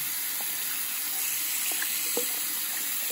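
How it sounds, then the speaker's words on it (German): Cold water runs steadily from a tap over a colour-changing Barbie toy, a constant close hiss of flowing water with a few faint knocks and clicks. "Und das passiert, wenn man es unter kaltes Wasser hält."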